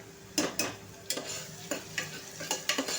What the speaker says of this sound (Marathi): छान अशी आलं लसूण आहे ना कच्चेपणा जाईपर्यंत फ्राय करायचं